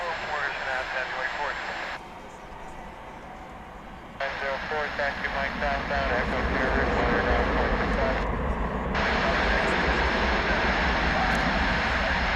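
An American Airlines Airbus A321 at DFW International Airport, a loud steady jet engine roar building through the clip, with someone talking over it throughout.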